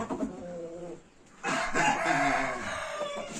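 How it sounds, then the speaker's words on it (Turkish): A rooster crows loudly and close by, a long strained call that follows a few softer clucking notes. "Ah yakışıklı güzel bir horoz getirdik bak."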